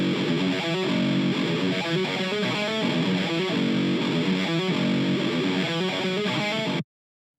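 Heavy, low-tuned distorted electric guitar run through EQ and an 1176-style compressor chugs densely and loudly without pause, then cuts off abruptly.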